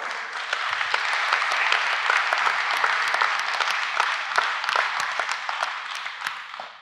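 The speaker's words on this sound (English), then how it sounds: "let us clap for Jesus Christ" A church congregation claps and applauds steadily for several seconds, a dense, bright patter of many hands that fades slightly at the end.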